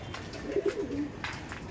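A home-bred female teddy pigeon coos softly nearby, a short low rolling call over a quiet room hum.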